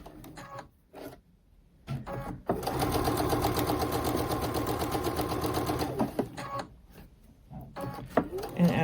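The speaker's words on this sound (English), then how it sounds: "I'm just going to take about 3 stitches and then hit my back stitch button" A domestic sewing machine sews a quilt seam, running in one steady, loud mechanical burst of rapid stitching with a back stitch for a few seconds. Brief talk and quiet handling come before and after the run.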